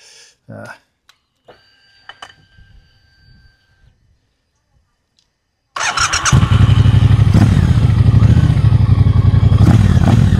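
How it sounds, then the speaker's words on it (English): After a few quiet clicks and faint beeps, a Triumph Bobber Stealth Edition motorcycle engine fires up and idles loudly, its exhaust rumbling with a steady, throbbing pulse. "Such a lovely tone to that exhaust."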